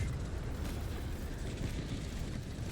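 A dropped bomb goes off in Helldivers 2 as a heavy, sustained blast, a dense low rumble that stays loud and rolling throughout with no clear break or talk.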